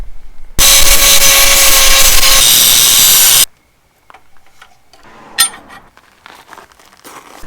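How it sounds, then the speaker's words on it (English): An angle grinder bites into the edge of a steel cradle cart piece during a welding build, a loud, steady, harsh whine lasting about three seconds before cutting off, followed by quieter clanks and shop handling noises. "I'm going to grind the edge off of here"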